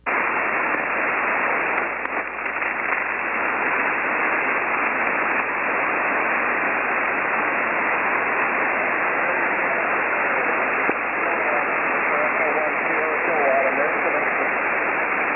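Weak 5-watt single-sideband amateur radio voice on a QRP net, heavily buried in steady hiss and static that fills the whole stretch at an even level, the faint speech barely rising out of the noise.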